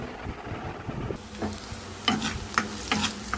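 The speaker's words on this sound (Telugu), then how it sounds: "ఉల్లిపాయలు అయితే మనకైతే బాగా ఫ్రై అయినాయి కదండి" Onions fry in a pan for chicken curry, giving a steady soft sizzle with a few louder scrapes of stirring near the end.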